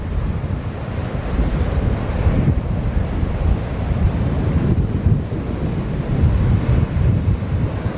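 Ocean surf and strong wind roar steadily around a small boat out on the water, a loud, dense wash with gusts buffeting the microphone and no speech.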